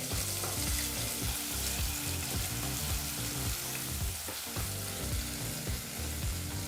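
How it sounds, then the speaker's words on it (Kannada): Finely chopped onion fries on a medium flame for a hotel-style green peas pulao, giving a steady, dense sizzle that runs close and unbroken throughout with no talking. "ಈಗ ಮೀಡಿಯಂ ಫ್ಲೇಮ್ನಲ್ಲೇ ಎರಡು ನಿಮಿಷಗಳ ಕಾಲ ಈರುಳ್ಳಿನ ಫ್ರೈ ಮಾಡ್ಕೋಬೇಕಾಗತ್ತೆ"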